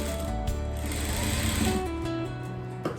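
A sewing machine hums continuously while stitching a plain blouse, a steady mechanical drone with tonal whine throughout and no voices.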